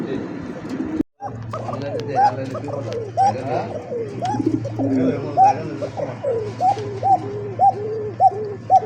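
A red indigo pigeon from a breeding pair coos over and over in a steady rhythm of throaty, rolling calls, close and clear, above a constant low hum.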